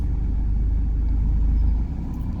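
A car reverses slowly during a driving test, giving a steady low engine rumble close by that drops off near the end, with no talk.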